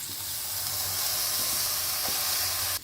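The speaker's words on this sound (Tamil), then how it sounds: "இப்போ இந்த ரைஸையும் போட்டு நல்லா வதக்கிடணும்" Soaked basmati rice, mint and curry leaves fry in oil and ghee, giving a loud, steady close sizzle with a faint stir near the end.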